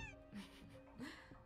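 A cat meows twice in a video game, the short calls rising over steady background game music with a faint low hum beneath.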